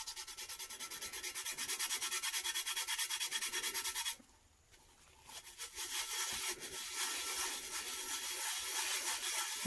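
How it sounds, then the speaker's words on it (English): Glitter being burnished off a vinyl tumbler: continuous close, rapid rubbing and scraping that drops away briefly in the middle and then resumes just as steadily. "This glitter that I'm burnishing off is no good."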